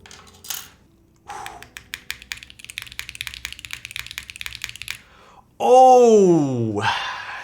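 Rapid typing on a Luminkey 65 mechanical keyboard fitted with Nixie switches, a brisk run of close, crisp key clacks for several seconds, bracketed by a brief knock and then a loud spoken exclamation at the end.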